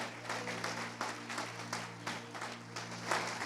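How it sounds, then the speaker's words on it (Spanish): A church congregation applauding, a steady wash of hand clapping with faint music tones beneath, fairly quiet and continuous throughout. "Dele un aplauso grande al Señor"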